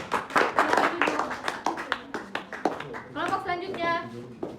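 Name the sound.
class clapping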